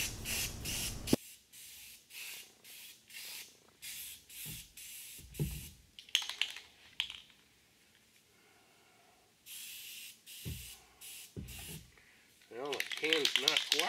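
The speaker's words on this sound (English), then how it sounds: "I'm about ready to go and put some professional fast drying industrial grade primer on here" Fast-drying industrial-grade primer hisses out in repeated short spray bursts onto a John Deere MC crawler. The passes are separated by brief pauses, and a longer, louder burst comes near the end.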